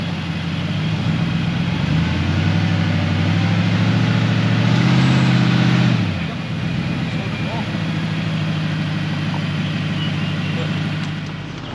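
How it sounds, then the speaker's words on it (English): A car driving slowly up onto a weighbridge, its engine idling with a steady low drone that swells briefly as it rolls on, then settles back to an even idle; close and fairly loud. "we're just weighing the car, just driving up"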